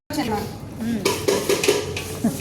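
Dishes clatter and pots clank while being washed, with running water and scraping under faint voices in the background.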